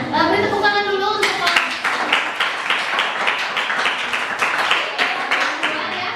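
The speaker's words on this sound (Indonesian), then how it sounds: "beri tepuk tangan dulu untuk" An audience at a classroom teaching-practice session breaks into steady, dense clapping right after a brief stretch of talk, the applause filling most of the moment at a close, fairly loud level.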